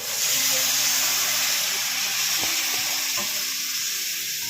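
Chopped bitter gourd and potato sauté in hot oil in a pan for a Tamil bitter gourd masiyal, giving a loud, steady sizzle and hiss with a couple of faint utensil taps throughout.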